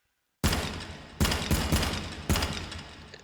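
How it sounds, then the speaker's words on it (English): M14 rifle shots fired at targets in the VR game H3VR: a handful of loud, sharp single reports with brief decaying tails, spaced irregularly after a short silence. "Let's shoot some targets."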